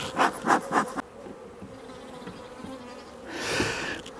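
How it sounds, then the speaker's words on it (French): Drone bees buzz loudly around an open beehive, a few close passes swelling and fading, then a steady buzzing that rises again near the end. "c'est impressionnant le bruit qu'ils font, ces faux bourdons quand ils volent"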